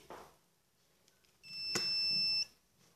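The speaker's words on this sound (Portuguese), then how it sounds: "Ele dá um bip porque eu aproximei da maleta" An AKS three-antenna gold and treasure metal detector set to Gold mode gives a single loud, steady electronic beep of about one second as it comes near a carrying case, after a brief quiet stretch with faint handling noise.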